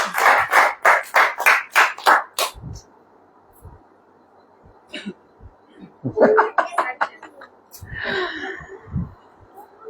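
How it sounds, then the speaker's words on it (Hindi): Audience members at a church sermon clap in a quick burst of about eight claps, then scattered softer claps and murmuring voices follow. "ताली बजा यार"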